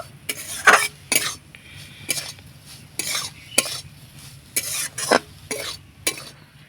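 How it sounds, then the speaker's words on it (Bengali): A utensil stirring grated coconut frying with semolina in ghee in a pan, giving rhythmic scraping strokes roughly once a second over a soft, steady sizzle, close and clear with no voices. "কুড়ানো নারকেলটা দিয়ে একটু নাড়াচাড়া করে ভেজে নেব"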